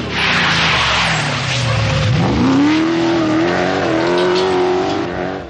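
A big Rover Vitesse Group A rally car driven flat out on a forest stage in the 1985 British Rally, its engine loud and close, rising and falling through gear changes with a long climbing rev, and no talk over it.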